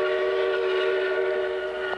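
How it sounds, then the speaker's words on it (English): A train whistle or horn sounds steadily as a train departs from a station, a sustained tonal blast with layered harmonics holding for about two seconds, fairly loud and alone with no talk. "The train's leaving! It's leaving very shortly!"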